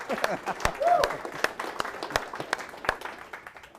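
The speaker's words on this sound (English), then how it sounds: "I think we should actually have one more round of applause just for our industry" Seminar audience clapping in a hall, a dense round of applause made of many sharp overlapping claps, close and lively for nearly four seconds, fading slightly toward the end.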